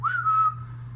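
A single emergency whistle blast rises quickly, then holds a steady shrill tone for about half a second and fades, over a constant low hum.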